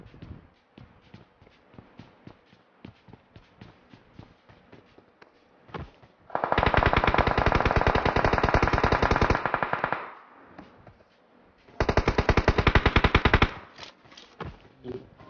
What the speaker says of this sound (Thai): มันยิงกันอยู่มันยิงกันอยู